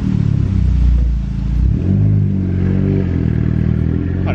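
A Seat Leon Cupra R engine revs hard on a road test, a loud, close, throaty roar that surges, dips briefly, then climbs again through the gears with a rasping exhaust note.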